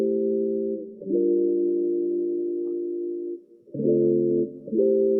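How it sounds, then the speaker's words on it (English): A filtered guitar melody sample, bought from a sample maker for beat production, plays as smooth, muffled sustained notes that shift pitch a few times with brief dips between phrases, alone and moderately loud. "So I got this guitar from Manifest Park. It sounds like this."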